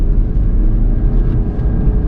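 A 2014 BMW 118d diesel accelerating in sport mode, heard from inside as a loud, low, steady engine drone with a rumbling undertone and no voices.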